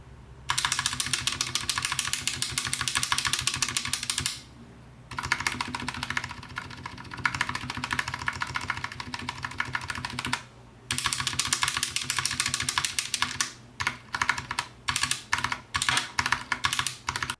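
Rapid typing on a modded Glorious GMMK TKL mechanical keyboard with lubed switches and clipped stabilizers, dense clacking keystrokes in fast bursts with brief pauses, close up and crisp.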